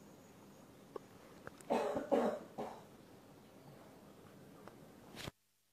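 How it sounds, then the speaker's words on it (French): Coughing during a quiet yoga session: a short cluster of three throaty coughs from one person, fairly close over a soft room hush, with a couple of faint knocks before and after. "Et si ça tousse, ça tousse."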